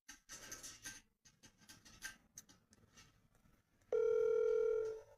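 A telephone line rings out on an unanswered call, preceded by scraping, rubbing handling noises, then a loud steady tone comes in and holds for about a second before cutting off.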